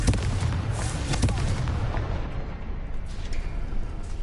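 The Confringo explosive spell in the Hogwarts Legacy video game bursts with a loud, close booming blast, then rumbles and crackles as it decays over a few seconds.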